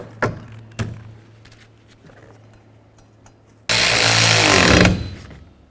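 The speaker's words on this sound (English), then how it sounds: "Hold that wiper arm so it can't move while you tighten it." Two sharp clicks sound, then a loud one-second burst from a power tool snugging the wiper arm nut on a 2007-17 Ford Expedition, close up and without speech.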